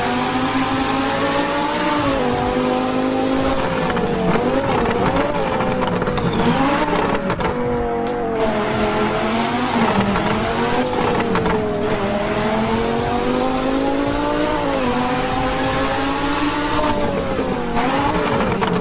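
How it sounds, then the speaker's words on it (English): Yellow twin-turbo Lamborghini Huracan race car at full throttle, a loud, continuous engine roar sweeping up and down through gear changes, with a brief drop in the middle and tire squeal mixed in, no voices. "It wasn't easy to find twin-turbo Huracan sounds, but I managed, and I'm not disappointed by the results."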